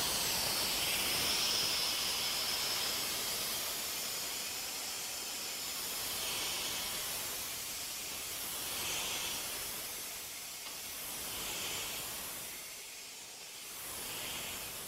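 Spill Pro air-powered vacuum running at full air with a loud, continuous broadband hiss like rushing compressed air, swelling and easing slightly in waves over fifteen seconds.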